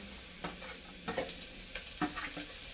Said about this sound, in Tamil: இது கேரட்டு பீன்ஸு கேப்சிகம்ங்க மூணையும் போட்டு வணக்கிட்டு இருக்கோங்க